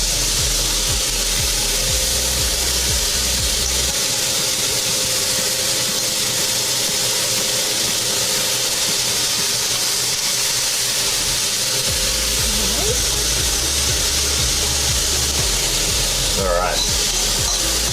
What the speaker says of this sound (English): So at this point, I'm going to add in mushrooms.